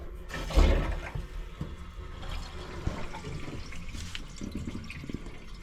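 Water rushes through household pipes and taps as the stop taps are opened, starting with a sudden surge and then settling into a steady hiss and gurgle with a few knocks, close by and without talk.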